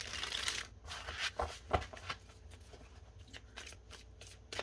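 A tarot deck is shuffled by hand in quick soft bursts of sliding, riffling cards with brief pauses between them, close and quiet, with no one talking.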